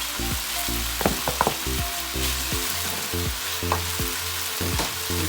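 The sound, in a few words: rice stir-frying with chicken and prawns in pan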